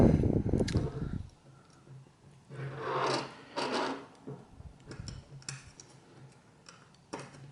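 Screws are turned into an aluminum Raspberry Pi 3 case, giving close, small scraping and ticking sounds in short bursts, starting with a brief louder handling rattle.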